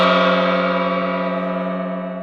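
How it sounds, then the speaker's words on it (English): A large gong rings out loud and sustained after a single strike, its rich, shimmering tone slowly decaying over a couple of seconds with no other sounds. "Are we going to try and test this gong?"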